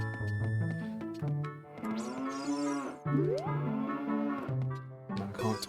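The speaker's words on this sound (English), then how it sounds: "I can't talk to the cows." Cows in the video game Ocarina of Time 3D moo repeatedly, long tonal lowing calls following one another closely and loudly, with no speech over them.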